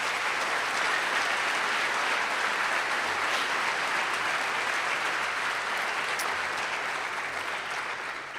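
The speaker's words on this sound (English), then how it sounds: "Please join me in a round of applause for them at this time" Steady, sustained applause from a crowd at a high school sports awards ceremony, an even wash of clapping at moderate distance that tapers slightly near the end.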